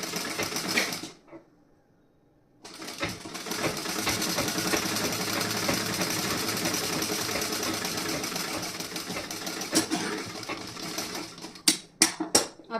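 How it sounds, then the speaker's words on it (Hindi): A sewing machine stitches the front part of a blouse with a continuous close motor whir and needle clatter after a brief opening burst and pause, ending in a few short stop-start runs. "अब यहाँ पे मैं सिलाई लगाऊंगी"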